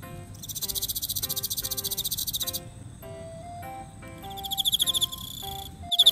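An Emma field cricket chirps by rubbing its wings, a loud, close run of rapid pulsed trills that repeats in bursts, under a steady low background murmur.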